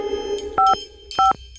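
Two pairs of telephone keypad tones are dialed close by, each a short steady double beep with a brief gap between the pairs, and a low hum sits underneath.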